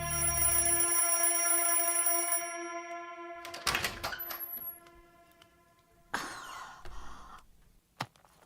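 An alarm clock rings in a steady bright tone at first, then stops, followed by a few scattered knocks and rustles.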